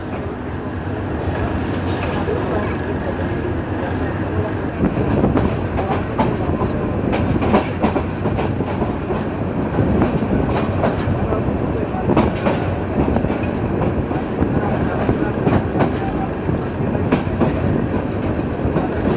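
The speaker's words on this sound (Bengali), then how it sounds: "তেজগাঁও রেল স্টেশন ক্রস করে যাচ্ছে ট্রেনটি।" The Mohonogor Express, a Dhaka–Chittagong intercity train, rolls past Tejgaon railway station in Dhaka with a loud, steady rumble and rhythmic wheel clatter that holds throughout.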